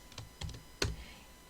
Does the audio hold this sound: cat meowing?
no